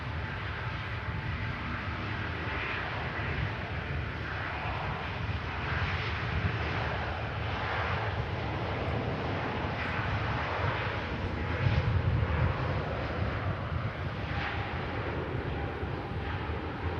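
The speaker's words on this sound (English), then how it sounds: "Singapore rotates, and the stunning 350 climbs out." A Singapore Airlines Airbus A350 takes off and climbs out, a sustained broad engine roar heard from the ground with a slight surge partway through, with no talking.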